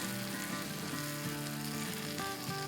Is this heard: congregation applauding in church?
no